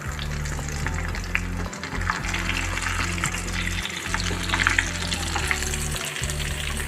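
Cauliflower pieces fry in a pan and get turned over. A dense, loud sizzle continues without a break over a low steady hum that briefly dips a few times.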